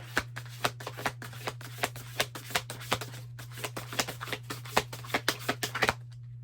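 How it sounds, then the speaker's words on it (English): Tarot cards being shuffled by hand, a steady run of crisp riffling snaps and flicks close up, continuing for several seconds over a constant low hum before stopping. "I don't know if you see me like shuffling the cards"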